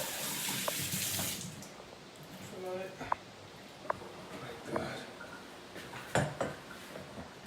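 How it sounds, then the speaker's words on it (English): A bowl is rinsed under a running kitchen tap, steady water hissing and splashing into the sink with a few clinks of the bowl, while a person talks over it. "let's just rinse this out a little bit"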